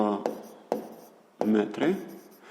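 A pen writes down a math calculation on paper in a few short scratchy strokes, heard close and fairly quiet between and under a person's speech.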